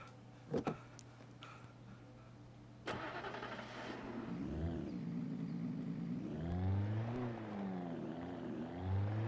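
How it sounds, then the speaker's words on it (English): A sports car engine in the video game Alan Wake starts and revs up into a rising, throaty roar, steady and fairly loud after a few clicks, with no voices. "this sounds a little bit more like a sports car than like a Jeep"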